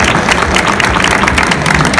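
A book fair audience applauds loudly during the presentation of a book collection, a dense wash of many hands clapping together, close and sustained throughout.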